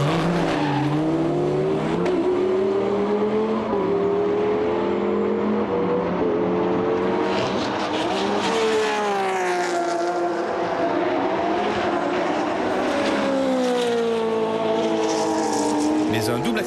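GT race cars, a Porsche, a Viper and a Ferrari, roar past on a circuit with rising and falling engine notes under continuous commentary.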